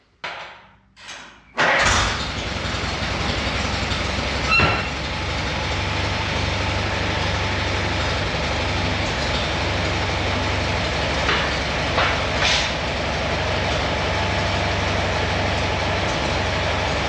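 A tractor engine idles and labours steadily while lifting a large mower of almost 1,200 pounds, after a few sharp metallic clunks at the start; the rumble holds loud and even with occasional knocks and creaks.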